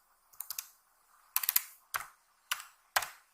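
Keys on a computer keyboard are typed in quick bursts of close, crisp clicks, with a few short pauses between the clusters of keystrokes.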